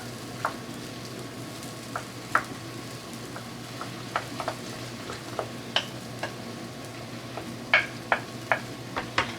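A utensil stirs quiche eggs and peppers in a pan over a low steady sizzle, with a string of light, irregular ticks and scrapes that grow a little busier toward the end.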